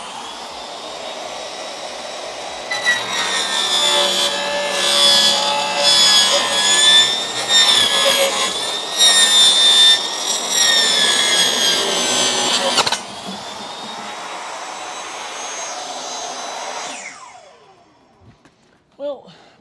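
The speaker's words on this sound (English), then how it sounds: "we're just gonna use one of these pre-bought tubes and cut it down to size" A pre-bought cardboard tube being cut down to size with a power saw, a loud rough whining buzz with wavering pitch lasting about ten seconds, then fading out to near silence.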